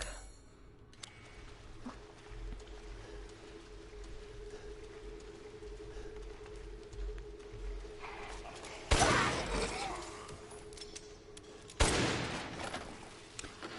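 Two loud broadband gunshot bursts from a fantastic gun in Resident Evil 8, at about nine and twelve seconds, each decaying over a second above a steady low game hum and ambient drone.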